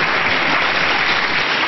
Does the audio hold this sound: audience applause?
yes